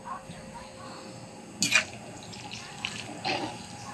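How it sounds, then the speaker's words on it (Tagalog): Hot water poured over a young buko coconut during bukayo preparation, heard as a couple of short splashing bursts over a quiet room background. "banlian muna natin ng mainit na tubig ang ating buko"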